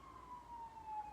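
An emergency vehicle siren sounds outdoors, a single steady wailing tone that drifts slowly downward, faint and distant under low background hum.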